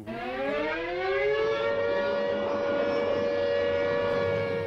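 A U.S. government civil defense siren with a rotating top wails steadily, its pitch rising then holding at a loud, sustained tone, alone and without voices.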